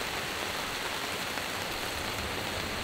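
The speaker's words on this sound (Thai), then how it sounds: "ตอนนี้เป็นเวลา 4:00 นะที่ฝนตกหนักมากครับได้ยินเสียงเนี่ย" Heavy pre-dawn rain beats on a tent at a campsite in Suan Phueng, Ratchaburi, a dense, even hiss of drops that fills the whole stretch with no voices.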